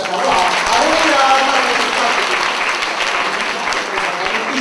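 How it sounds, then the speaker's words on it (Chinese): A church congregation claps together in praise during a Christmas street parade gathering, a loud, dense, continuous wash of many hands sustained throughout, with voices mingling underneath. "我拍手来赞美的神"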